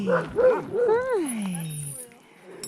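A dog at a lakeside gives high, wavering whimpers and yips that slide downward in pitch, close by, with a person's voice speaking nearby.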